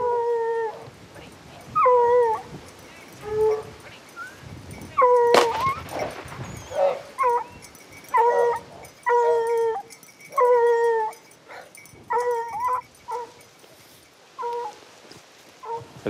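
Several hunting dogs baying in a snowy hunting area, repeated bursts of howling and yipping calls at mid distance, separated by short pauses over a quiet outdoor background.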